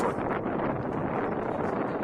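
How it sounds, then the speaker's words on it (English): Wind blows in steadily on an open baseball field during a night game, a loud rushing buffet of gusts over the microphone that fills the short span without any voices. "wind blowing straight in as it's been all night"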